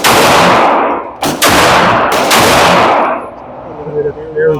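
Loud gunshots from a Great Lakes Synergy firearm fired at a target, two or three sharp close blasts with ringing decay between them, fading into quieter tail noise.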